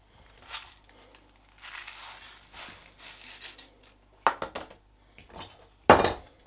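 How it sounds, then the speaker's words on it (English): Risotto rice being stirred into baked aubergine and onion in a pan: scattered soft scrapes and grainy rustles, then two louder clattering bursts of spoon against the dish, close by with no talk. "stir in the rice"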